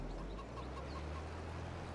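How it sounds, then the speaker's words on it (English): Chickens cluck softly in the farming video game Farming Simulator 22, with a few faint, scattered clucks over a low, steady background hum and no talking. "Got some good, healthy chickens."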